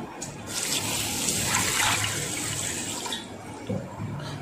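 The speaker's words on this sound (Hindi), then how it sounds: "लंबा वाला राइस है, इसको हम बहुत अच्छी तरह से धो लेंगे।" Long-grain basmati rice being washed in water for biryani: a steady rushing, splashing wash of running water swishing through the grains, fairly close and continuous.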